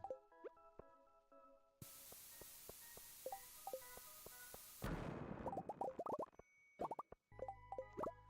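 A bomb goes off in the Stardew Valley mines, a loud sudden burst of crackling noise cutting through light game music and plinking sound effects, followed by a few softer pops.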